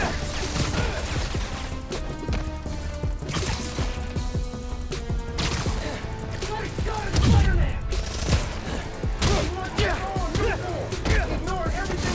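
Rapid bursts of gunfire mixed with crashes and metallic impacts during Spider-Man: Miles Morales gameplay, dense and loud throughout with voices shouting over it.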